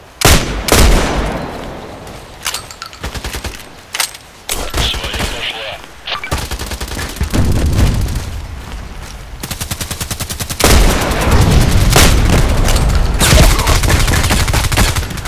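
Gunfire in the online shooter Contract Wars, with an IZH-43 shotgun in play: loud, dense bursts of shots and rapid automatic fire come in waves, broken by short gaps, with a voice speaking over part of it.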